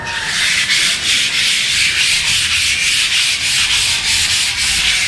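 Rhythmic back-and-forth scratching of sandpaper rubbing a wall, about a dozen steady strokes, close and loud with no talking.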